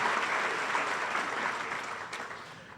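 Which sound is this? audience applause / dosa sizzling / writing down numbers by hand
audience applause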